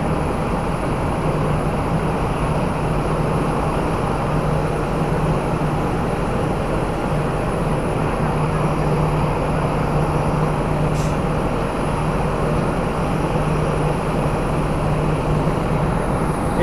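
A Sriwijaya Air passenger airplane's engines drone in a loud, continuous roar close by at Sultan Hasanuddin Airport, Makassar, unchanging for the whole stretch with no voices.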